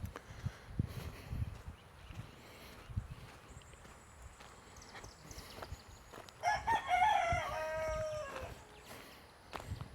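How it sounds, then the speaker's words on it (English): A rooster crows once partway through while chickens cluck on a farm with goats and sheep, under a soft, scuffling outdoor background. The crow is moderately clear and sits somewhat away from the listener. "Got some chickens."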